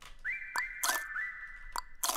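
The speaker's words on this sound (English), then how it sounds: "Can I auto-tune the whistle?" Whistle sample in a music production session: a steady, clear whistled melody of held, gliding notes, punctuated by sharp percussive clicks and noisy bursts, with no talking.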